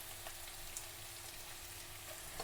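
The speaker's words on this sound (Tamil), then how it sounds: "வெங்காயம் கொஞ்சம் நல்லா வதங்கட்டு" Onions sautéing with salt in a pan for Sri Lankan curry buns, giving a steady close sizzle and frying hiss throughout with a few faint clicks.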